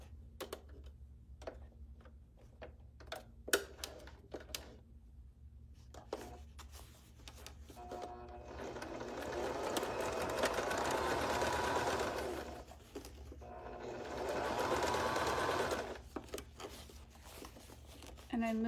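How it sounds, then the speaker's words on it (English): A sewing machine top-stitches fabric in two long steady whirring runs, separated and preceded by clicks, rustling and handling of the cloth, with some quiet speech around the stitching. "And I'm moving this fabric out so it's nice and flat where I'm sewing."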